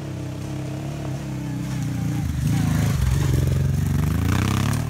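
Honda Africa Twin motorcycle ridden off-road over rough ground, its engine a steady droning rumble that swells louder midway, with clattering and scraping through the ride.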